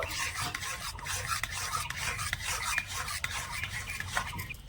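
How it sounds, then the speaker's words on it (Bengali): A spoon scrapes and rubs a thick malai sweet mixture with ghee and a pinch of salt into a dough in a pan over a very low gas flame. The close, gritty strokes repeat in a steady rhythm with no talk. "গ্যাসের আঁচটা একদম হালকা রেখে নেড়ে ছেড়ে একটা ডোয়ের মতন বানিয়ে নেব"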